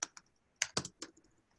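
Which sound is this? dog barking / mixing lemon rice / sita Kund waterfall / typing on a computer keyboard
typing on a computer keyboard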